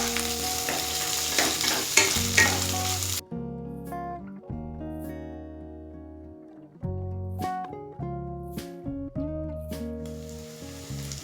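Chopped chili and kakrol seeds are stirred into onions frying in a pan. Repeated scraping strokes cut through a crackling sizzle, with background music playing throughout.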